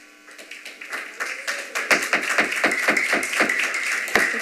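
Audience at a planning commission meeting breaks into clapping after a motion carries, starting sparse and building into steady, fairly close applause lasting several seconds.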